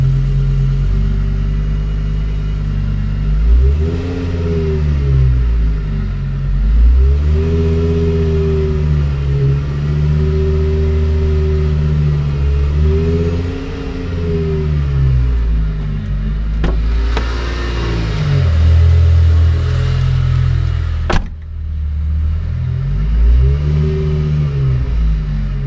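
A BMW E39 M5's S85 V10 runs in gear, loud and close, its pitch rising and falling in repeated rev swells over a steady idle rumble, with a couple of sharp clanks partway through.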